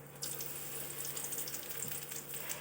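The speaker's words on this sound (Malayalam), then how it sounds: "അതിലേക്ക് ഞാൻ കുറച്ച് കറിവേപ്പില ഇട്ട് കൊടുക്കുന്നുണ്ട് കേട്ടോ" Curry leaves dropped into hot oil give a steady, close sizzle and crackle that holds for nearly three seconds with no voices.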